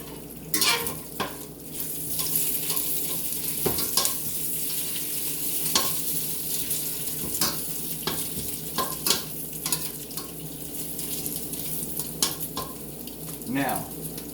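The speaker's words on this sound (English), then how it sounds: "I'm going to let you see this bacon because it's just about done" Bacon frying in a pan, a steady bright sizzle and crackle throughout, with scattered clinks and scrapes of a utensil against the pan, close and fairly loud.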